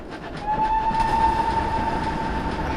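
A steady train whistle in a video game sounds over the rumble of a moving train, one long sustained tone, loud and close.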